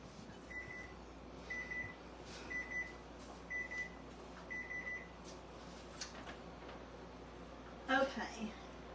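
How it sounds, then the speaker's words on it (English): Repeating electronic beeps from an oven timer while cookies bake, four short evenly spaced pulse groups, moderately loud over steady kitchen room noise, followed by a brief clatter near the end. "let me hear my buzzer, let me check"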